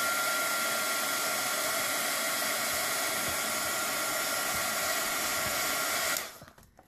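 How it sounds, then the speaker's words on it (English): A small scrapbooking heat gun blows a steady, loud hiss of hot air for about six seconds, then cuts off and fades quickly. "by taking the heat gun"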